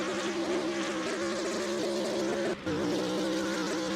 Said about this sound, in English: How could an engine possibly sound like this?